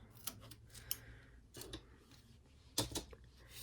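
Scissors snip through tape during paper bookbinding, giving a few sharp, quiet cuts spaced apart with faint handling rustles between them.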